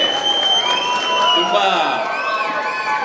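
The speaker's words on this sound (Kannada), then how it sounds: "ಅದಕ್ಕೆ ನಾನು ನನ್ನ ತಂಡಕ್ಕೇನೆ ಒಂದು ಚಪ್ಪಾಳೆ ಹೊಡಿತೀನಿ" A crowd applauds and cheers for the film team at a song launch event for the Kannada film Alpha Men Love Violence. The clapping holds steady and fairly loud throughout, mixed with voices and some tonal music in the background.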